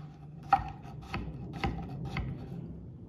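A knife chopping soft squash into small cubes on a board, four or five dull, evenly spaced chops, close and fairly quiet.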